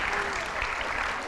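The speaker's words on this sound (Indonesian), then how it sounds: "Tepuk tangan sekali lagi untuk M. Syaiful dari Kota Bandung." Audience applause rings out on the TV show I Am President, a brief, even wash of many hands clapping at steady loudness.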